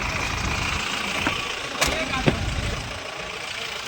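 A motorcycle engine idling close by, a steady low rumble with a couple of short sharp knocks, while people talk nearby.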